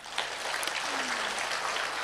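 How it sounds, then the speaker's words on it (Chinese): An audience at a Buddhist Dharma lecture by a monk gives a brief burst of scattered applause that fills the room. "记到日落太阳的朋友拍掌给我听"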